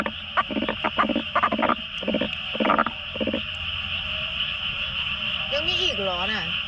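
Frogs croak in a chorus at night in Korea: loud, rapid pulsing bursts in clustered rhythm over a constant insect-like whine, with a voice briefly talking near the end.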